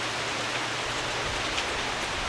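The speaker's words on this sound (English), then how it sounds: "Oh, it's raining! It's raining!" Steady rain pours down in a dense, even hiss, with no voices and no breaks.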